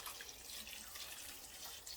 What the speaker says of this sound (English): as far as the moisture goes, twice a week, I will take water and pour it in here.